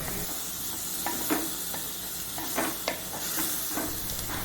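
Cooked cowpeas go into a sizzling curry in a pan, giving a steady hiss with scattered soft stirring clinks and scrapes at a moderate level, no voices.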